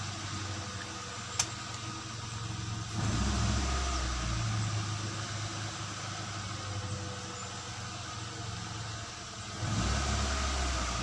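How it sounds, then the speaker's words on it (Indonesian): A Daihatsu Xenia 1.3 engine idles unevenly while the rpm rises and falls around 2000, a steady close engine drone that swells noticeably at two points, with no talk. "Nah jadi dia naik turun pada posisi RPM rendah ya, di posisi RPM 2000."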